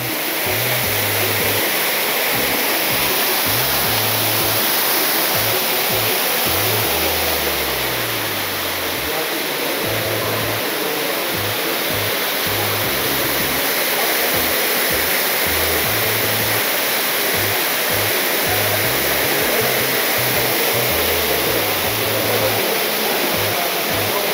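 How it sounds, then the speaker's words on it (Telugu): Steady, loud rush of a man-made waterfall at a resort in Bangalore fills the scene throughout, with faint low rhythmic music underneath. "న్యాచురల్ లాగానే అనిపిస్తుంది, మ్యాన్ మేడ్ వాటర్ ఫాల్స్."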